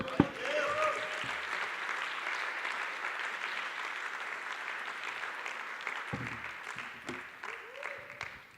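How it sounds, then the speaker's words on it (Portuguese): Church congregation applauding during a New Year's Eve sermon, a steady wash of clapping sustained through the whole stretch with a few brief voice fragments and a short tone near the start and end. "Você pode aplaudir o Senhor?"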